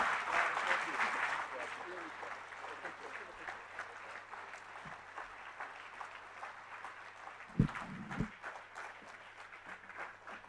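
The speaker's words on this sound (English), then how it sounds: "another round of big applause for our two great speakers today" Applause from an audience for two speakers at a talk event, strongest at the start and then thinning into a fainter, ragged patter, with a couple of bumps and some speech underneath.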